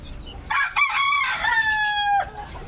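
A rooster crows loudly and close, a drawn-out rising and falling call, with brief clucking around it.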